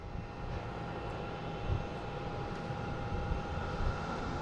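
A United Airlines jet arriving from San Francisco at Boston Logan International Airport, heard as a steady, broad engine roar that holds level throughout, fairly distant with no talk over it.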